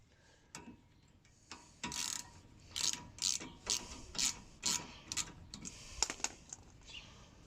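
Ratchet wrench clicking in short bursts while loosening a rear brake caliper bolt on a Citroën Berlingo 1.6 HDi, close by, several rhythmic ratcheting strokes with pauses between them.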